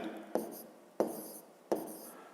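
Handwriting on paper during a fifth-grade maths exercise: three short, faint scratching strokes spaced at even intervals, each starting with a small tap, close by in a quiet room.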